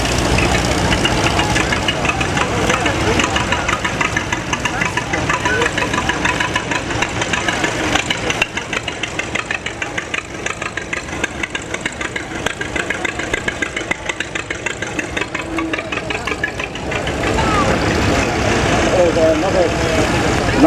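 A vintage French-built tractor engine runs steadily at an agricultural show, a close, rhythmic knocking chug under continuous commentary from a man.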